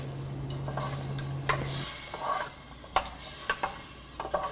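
Chopped potatoes, green beans and carrots stirred with half a cup of water in a pressure cooker pot, giving soft scraping strokes and a few sharp clinks of the spoon against the metal, with a faint sizzle underneath.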